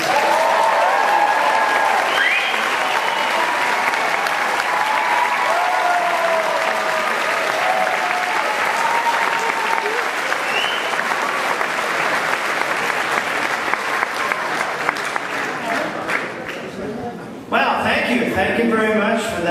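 An audience at a Beatles convention claps and cheers to welcome a guest on stage, sustained loud applause with whoops and shouts that carries on for a long stretch before briefly dipping and then resuming.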